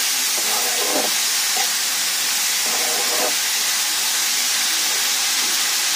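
A pan fries steadily on low heat with a constant soft hiss and sizzle, and a few faint scraping or stirring touches are heard close by.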